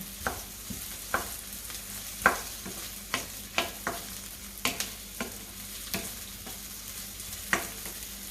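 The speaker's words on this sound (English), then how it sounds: "This is what I like of sauteed onions." Onions sauté in a pan as the base for a fish soup, giving a soft continuous sizzle broken by frequent clacking stirs of a utensil against the pan, close up and with no talking.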